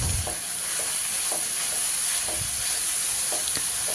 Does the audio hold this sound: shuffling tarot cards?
no